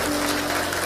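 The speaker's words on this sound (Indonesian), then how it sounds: "Tepuk tangan dulu buat Tuhan Yesus." A short burst of loud, dense applause from a church congregation during a sermon, steady clapping filling the space.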